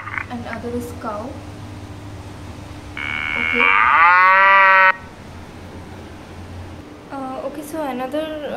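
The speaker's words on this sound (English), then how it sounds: "And other is cow." Cow mooing in an augmented-reality animal app, a long loud harmonic moo in the middle of the clip, with a brief tonal beep just before it and other animal-like calls at the start and end.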